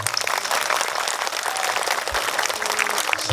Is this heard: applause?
yes